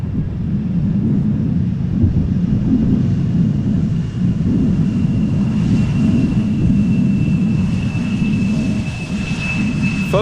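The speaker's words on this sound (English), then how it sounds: "another B775 just touched down over here" A Boeing 777 touching down at Amsterdam Schiphol Airport gives a steady, low, rumbling roar that stays fairly loud and even throughout, with a faint thin whine running through the latter half and no voices.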